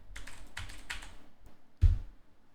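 Computer keyboard typing in three quick bursts of clacking keys, then a single heavier thump near the end, fairly close and alone with no voices.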